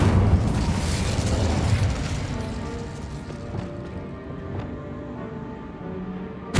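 A burst of fire from the Incendio spell in Hogwarts Legacy roars out as a broad, loud whoosh that fades into lingering rumbling game effects, ending with a short sharp hit.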